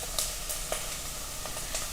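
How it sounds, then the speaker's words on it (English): Mirepoix sizzles in a pot as the base for tomato soup, a steady hiss of frying vegetables with occasional soft clicks and stirring scrapes close by. "So you hear that sizzle? That means we're in a good place."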